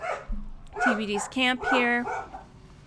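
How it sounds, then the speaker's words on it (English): A pet dog named Suki barks at someone at the door, a few short close yaps under a man's speech. "And that is my dog, Suki."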